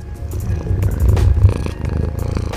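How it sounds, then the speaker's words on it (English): A cat purring close to the microphone, a loud, steady low rumble with a fast pulsing rhythm that rises and falls slightly with each breath. "Let's hear my cat purr."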